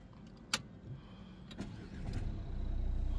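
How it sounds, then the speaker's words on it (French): A manual-transmission car's engine cranks and catches, settling into a steady idle after a couple of clicks and thumps. "je t'invite à démarrer la voiture"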